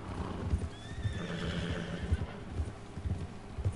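Horse hooves clip-clop in a steady, even rhythm in the video game Red Dead Redemption 2, with a faint whinny partway through and ambient game sound behind.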